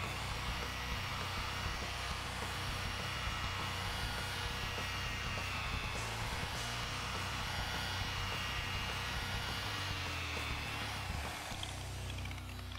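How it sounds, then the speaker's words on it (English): A rotary polisher fitted with a lubricated polishing pad buffs car paint, giving a steady, loud, broadband machine whir that runs unbroken and close up, with a slight change in tone near the end. "We'll lube up our polishing pad and show you how easy it can be."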